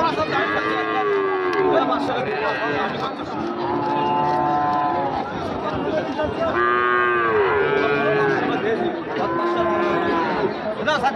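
Cattle, including small breeding bulls of Friesian, Nepali Gir and Sahiwal type, moo loudly and repeatedly at a busy cattle market, long drawn calls overlapping amid crowd chatter and people talking.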